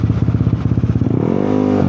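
A motorcycle engine runs close by, loud and throbbing, with a rough idle that rises into a steady higher rev near the end; no speech.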